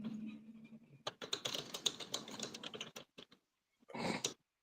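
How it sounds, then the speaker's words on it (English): Rapid computer keyboard typing in quick bursts of clicks, close and fairly loud, pausing briefly before a final dense flurry of keystrokes. "Ryan, how are you making all that keyboard noise with no keyboard?"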